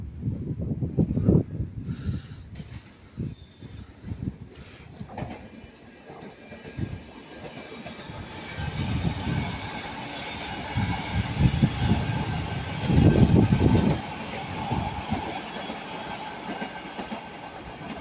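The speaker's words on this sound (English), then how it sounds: "And now passing by the Northern Class 331, going from Manchester Airport to Blackpool North." A Northern Class 331 electric train passes at Ardwick, with rolling wheel noise and rhythmic clicks over rail joints that rise and fall, strongest around the middle and near the end.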